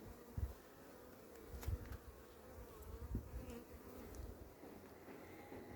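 Honeybees buzz softly and continuously during a beehive inspection, a faint, close hum with occasional brief louder passes of individual bees.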